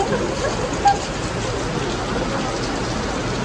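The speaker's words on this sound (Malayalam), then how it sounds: "ഭയങ്കര ഇടിവെട്ടി മഴ" Heavy rain pouring down steadily during a thunderstorm, a dense even wash of rainfall close by, with no distinct thunder crack standing out.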